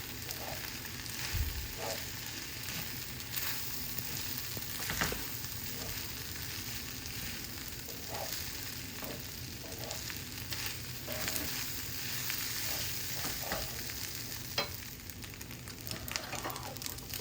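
Paneer sizzles and fries steadily in a hot pan for chili paneer fried rice, a continuous close crackling hiss with small bursts of spatter, no talking over it.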